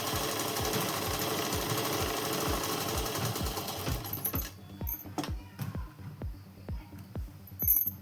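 A sewing machine stitching a shalwar, running steadily with a rhythmic thumping needle beat for about four seconds before slowing into separate clunks and ticks, close and with no voices.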